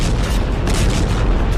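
A bomb explosion in war news footage of US strikes collapsing Iranian bridges: a loud, sustained roaring rumble with broad crackling noise that holds steady for under two seconds, with no voices.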